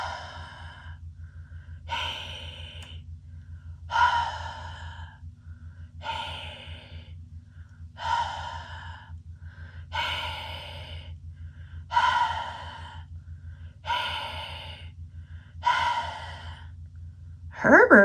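A voice imitating a monster's heavy panting: slow, rhythmic breathy huffs repeating about every two seconds, close and steady.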